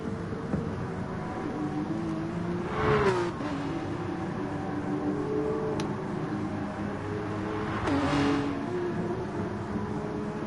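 A Porsche Cup race car engine drones steadily in a sim racing game at the Red Bull Ring, with its pitch rising and dipping through gear changes and two louder swells as the car passes.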